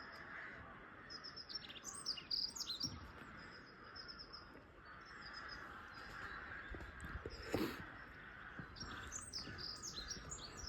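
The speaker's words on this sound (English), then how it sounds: "There's dunnocks singing there." Small songbirds, dunnocks, sing in gardens with good bird habitat, giving bright, high warbling phrases in repeated short bursts over a steady outdoor background.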